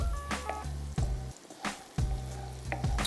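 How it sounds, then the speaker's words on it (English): Vegetables sizzle steadily in a hot pan, with a few sharp scraping stirs breaking in along the way; no one speaks. "Starting to sizzle. It takes like about a minute or two for vegetables to get sauteed"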